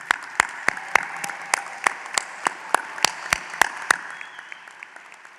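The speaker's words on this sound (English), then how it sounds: "Let's give them a big round of applause." Sparse, scattered clapping at a community college commencement: a handful of distinct, sharp claps at uneven intervals over a soft bed of wider applause, tapering off toward the end.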